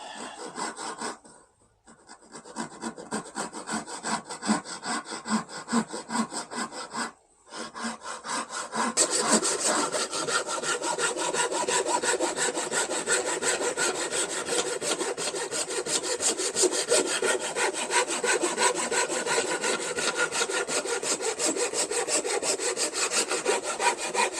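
A hand saw cuts a mitre in wood for a camper van bed extension, steady back-and-forth rasping strokes close up and loud, with two brief pauses early on before continuous sawing.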